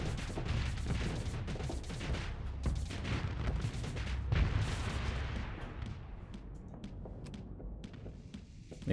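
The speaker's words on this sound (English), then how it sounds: "I'm gonna take 2 torpedoes to kill this thing" Torpedoes strike ships in the space game Starsector, a rapid run of heavy booming impacts and crashing blasts that rumble on, then thin out into a few sparse hits near the end.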